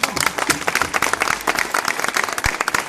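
A live concert audience in Ponticelli applauds with dense, continuous clapping throughout, fairly close and steady.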